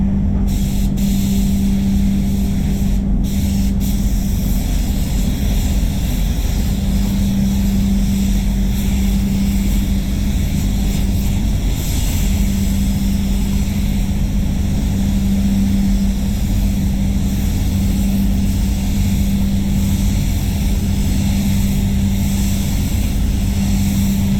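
Spray gun laying a light first coat of clear over a VE Commodore painted Poison Ivy Green: a steady, loud hiss of air and atomised clear runs continuously throughout with no talk over it.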